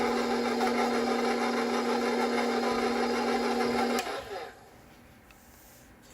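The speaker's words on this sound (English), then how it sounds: "I'm mixing these ingredients to make sure that once I add my wet ingredients, they are evenly distributed throughout my batter." Electric mixer whirring steadily as it blends dry ingredients for peanut butter oat dog cookie batter, a loud continuous motor drone that cuts off abruptly after about four seconds, leaving quiet room tone.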